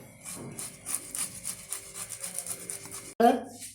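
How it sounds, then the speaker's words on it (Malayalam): A ripe banana rubbed against a kitchen grater, giving a run of soft, rhythmic scraping strokes close to the mic, followed by a brief louder clatter near the end. "പഴം നന്നായിട്ട് ഗ്രേറ്ററിൽ വെച്ചെടുത്തിരിക്കുകയാണ്"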